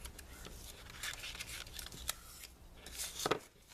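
Scissors cutting a piece off a sheet of paper for a journal's book cover, with a few quiet snips and rustling paper heard close up with no talk.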